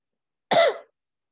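A single short, sharp cough bursts out of silence and fades within about a third of a second, close and fairly loud, with no talking around it.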